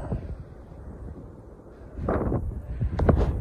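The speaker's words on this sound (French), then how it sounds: "Ouh, il y a du vent." Wind blows outdoors in Andalusia, producing a steady buffeting rumble on the microphone that swells into stronger, gusty blasts in the last second and a half.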